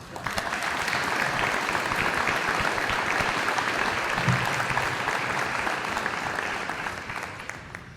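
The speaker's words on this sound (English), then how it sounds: "That takes some applause." Steady, dense applause rolls through the crowd at an aviation graduation ceremony, holding strong for several seconds before fading slightly at the end.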